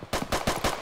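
Spencer Carbine shots in the Arsenal video game come as a quick run of about four sharp, punchy reports, evenly spaced and close, with no talking over them.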